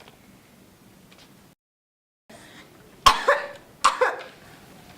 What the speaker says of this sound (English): Tree wilted and Pig coughed in the dust.